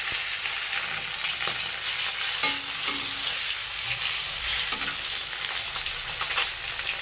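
Pieces of rohu fish being stirred as they fry in hot oil in a pan, a steady close sizzle with intermittent scraping and clinking of the spatula, no talking.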